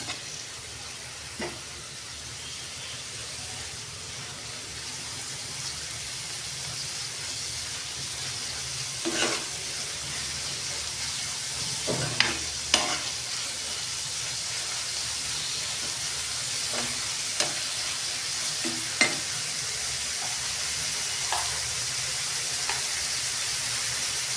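Onion frying toward golden brown in a pan sizzles with a steady, even hiss, broken by occasional soft clicks and stirring scrapes, close and continuous with no talking.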